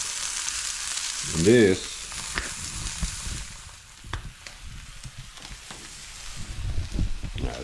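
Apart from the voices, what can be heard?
steak cooking on a Blackstone griddle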